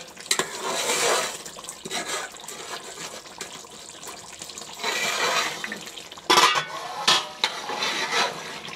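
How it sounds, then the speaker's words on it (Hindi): Mutton being stirred and sautéed in a pot for shaljam gosht, with broad bursts of scraping, clattering and wet sizzling that come and go, plus a few sharper knocks of the spoon against the pot near the end. "अब हम इसे भून लेंगे"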